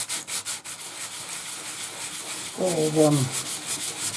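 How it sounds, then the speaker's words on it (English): The flat plastic bottom face of a BT Complete Wi-Fi Disc is rubbed back and forth on emery cloth, making a continuous close rasping scrape, with a brief spoken voice partway through. "we'll just get some emery cloth now and we'll finish these edges up"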